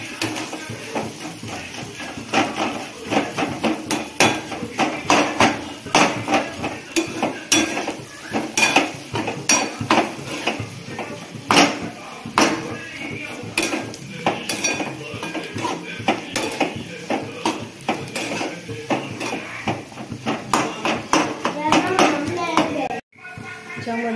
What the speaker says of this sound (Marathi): फोडून घालते मी बटाटे। याला असं हलवून घ्यायचं।